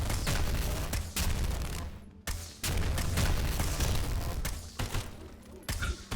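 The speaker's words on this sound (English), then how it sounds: "Those explosions are a little loud," Heavy explosions and bursts of gunfire from the video game Sulfur crash loudly in rapid succession, with dense booming barrages broken by short pauses.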